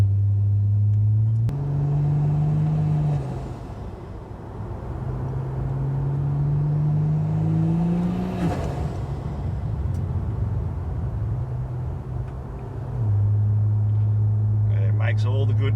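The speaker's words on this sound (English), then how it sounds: "it's got some really nice, really low throttle whistles, and as it spools, it makes all the right noises" A turbocharged Barra engine revs up and down in long rising sweeps, the turbo spooling with a faint high whistle above the loud, close drone.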